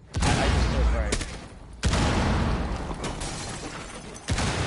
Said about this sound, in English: I just threw a frag.